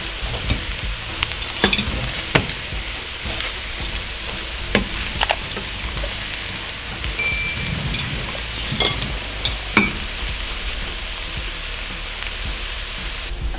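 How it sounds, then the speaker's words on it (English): Spicy Nando's-style fried rice seasoned with Aromat sizzles steadily in a pan, while a utensil scrapes and stirs with irregular sharp clinks and knocks over the constant crackle, with no talking. "add your secret ingredient, aromats. It's gonna make it so much nicer. Okay. And then mix."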